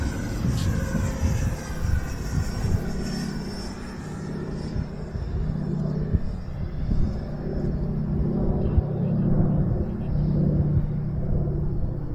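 An FMS Futura 64mm EDF RC jet flies a go-around on a windy day, its ducted-fan whine and rumble sweeping steadily past at moderate distance with wind noise underneath.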